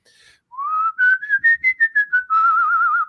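A person whistles a single wavering melody up close, the tone rising, pulsing in short bursts, then holding a long note with steady vibrato.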